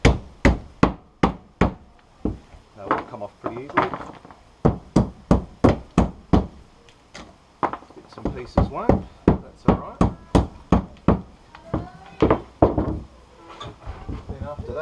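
A hammer knocks pieces out of wood for an outboard motor stand: a steady series of sharp, close, loud blows, some in quick pairs, running through the clip while someone talks between the strikes.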